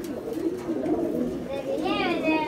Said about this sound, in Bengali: कबूतर आछे हाई फ्लायर से